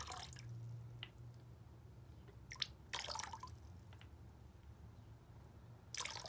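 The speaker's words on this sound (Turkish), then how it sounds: "Şöyle 4 kapak şampuan koydum ben." Carpet washing shampoo poured capful by capful into about 2.5 litres of water in an İhlas Aura Cleanmax carpet washing machine, heard as faint separate splashes and drips over a low steady hum.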